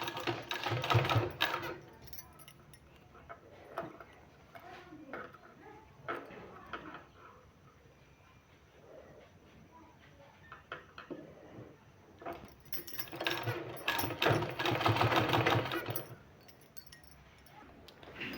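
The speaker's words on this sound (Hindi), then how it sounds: "इस तरह से रख के और यहाँ सिलाई लगा देना है।" A sewing machine stitches a sleeve in two bursts of rapid mechanical clatter separated by a quieter stretch of faint handling sounds, moderately close with no talk.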